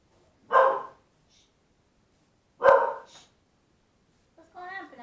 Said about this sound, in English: He's barking at the air.